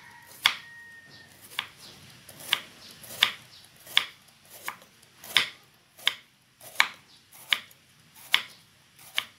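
Bitter melon being thinly sliced with a knife on a cutting board: about fourteen crisp, evenly spaced chops at a steady, unhurried rhythm, close and clear, with no talking.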